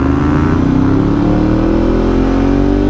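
An R125 motorcycle engine revs close by, a loud, buzzy drone whose pitch climbs steadily as it accelerates, with no talking over it.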